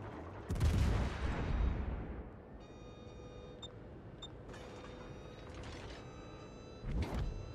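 A warship squadron's guns fire in a World of Warships naval battle: a heavy, rumbling salvo, then a quieter stretch with faint mechanical ticks, and a second booming burst near the end.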